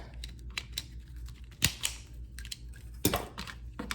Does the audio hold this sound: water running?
no